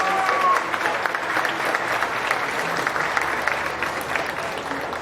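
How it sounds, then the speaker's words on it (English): Sustained audience clapping at a county fair llama and alpaca show, even and continuous for five seconds, with light crowd murmur beneath. "And so let's give her a big round of applause for that."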